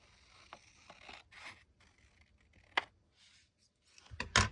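Scissors cut quietly through paper for a craft book pocket, a faint scatter of small snips and scrapes that ends in a few sharper, louder cuts.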